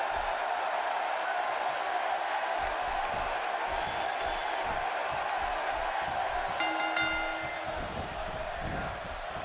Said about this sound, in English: His capacity crowd is on its feet.